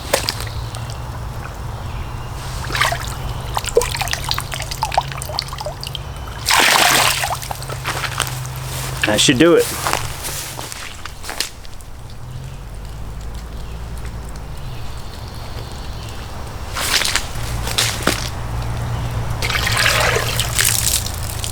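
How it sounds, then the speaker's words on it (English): Water from a Grayl cup trickles through a cotton filter bag outdoors, a soft intermittent dribble with a few louder splashy bursts and brief handling noises, and a person speaks briefly once. "I'm just going to pour the water out of that Grayl cup here, and it will slowly start to drip through"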